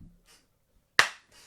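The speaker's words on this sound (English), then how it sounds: "You gotta clap." One sharp, close hand clap rings out in a quiet room, a single bright crack with a short decay, framed by faint breathy sounds before and after.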